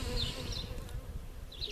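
Honeybees buzz steadily in a close, continuous drone while a top bar hive is opened for inspection, with brief higher whines from individual bees passing near.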